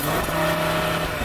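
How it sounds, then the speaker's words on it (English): Audi RS3 engine idling high and revving in launch control mode, a steady close, loud engine drone with bursts of exhaust burble, no talk. "put it into launch control mode so you can have a bit more noise"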